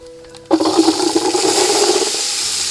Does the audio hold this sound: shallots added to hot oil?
yes